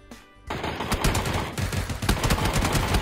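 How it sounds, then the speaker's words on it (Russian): Rapid automatic gunfire from another player in the video game PUBG, loud, close bursts of shots starting abruptly after a quiet moment and continuing steadily to the end. "А, это другой стреляет."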